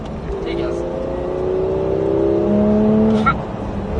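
A race car on the Haut Saintonge circuit drones steadily from inside the cabin, its engine pitch climbing smoothly under throttle, loud and continuous, with a brief knock near the end.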